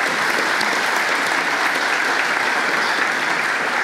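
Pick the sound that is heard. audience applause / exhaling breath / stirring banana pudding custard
audience applause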